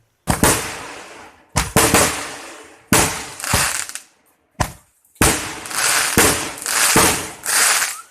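Loud fireworks burst in quick clusters inside the crater of Mount Galunggung, Indonesia, each crackling explosion echoing and rolling away off the crater walls, separated by brief gaps of near silence.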